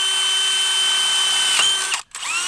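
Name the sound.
power drill drilling a hole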